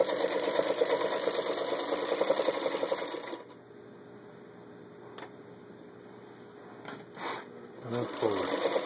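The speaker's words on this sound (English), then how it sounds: "how well it stitches. Then we'll do back stitch." A 1934 Singer 221-1 Featherweight sewing machine, freshly serviced, runs in a fast, steady stitching whir for about three seconds, then stops; a few quieter clicks and short bursts follow as it is restarted.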